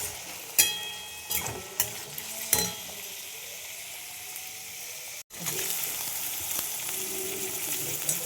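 Chopped green chillies, carrot and capsicum frying in a pan give a steady close sizzle, broken at the start by several sharp clinks of a utensil and one brief cut before the hiss resumes, no voices.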